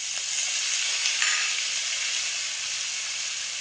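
Small diced potatoes dropped into hot oil for a vegetarian singara filling, giving a loud, dense, hissing sizzle that stays close and steady throughout.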